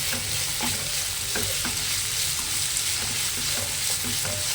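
Puffed rice upma being stirred in a pan, a steady dry scraping and faint sizzle with spoon taps scattered throughout, close and continuous with no talking.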